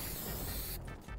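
Brief hiss of a spray being applied in the video game Fortnite, a steady airy spray that cuts off sharply after under a second, quiet and alone.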